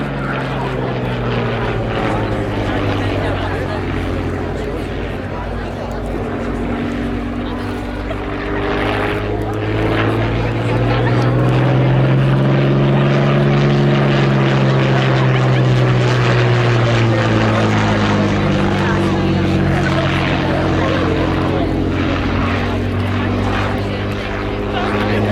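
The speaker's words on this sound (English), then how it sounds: "The Hawker Fury." A Hawker Fury biplane flies past at an RAF air show, its piston engine and propeller droning loud and close, with the pitch sweeping up and down as it passes and a commentator talking over it.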